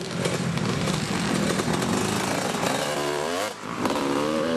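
Dirt bikes race around a motocross track at Mansfield, their engines droning and revving continuously at close range with shifting pitch, loud throughout with one brief dip near the end.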